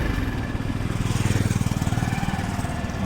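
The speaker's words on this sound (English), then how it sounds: "the carburetor is right in place, and the idling is really good" A Karizma motorcycle engine fitted with a Pulsar carburetor runs close by with a steady, rapid low thumping pulse that swells slightly in the middle, holding an even idle-like rhythm throughout.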